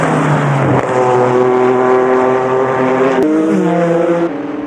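Race cars at Le Mans 1997, including a Porsche GT1, screaming past with loud sustained high-revving engine whine and audible pitch shifts as they pass and change gear, no talk.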